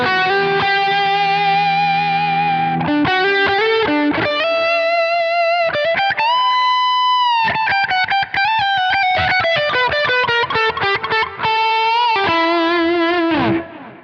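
An electric guitar lead played through a Nobel ODR overdrive in a Quad Cortex preset: loud, sustained, driven notes with bends and fast runs, alone and continuous.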